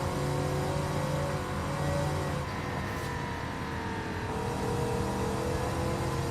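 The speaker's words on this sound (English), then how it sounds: "Diesel sounds really good. We got an upgraded turbo on this thing." A steady, loud diesel engine drone of a Ford F-250 Super Duty pickup with an upgraded turbo, holding high revs in the video game Forza Horizon 5, with a brief rise in pitch midway and no talking.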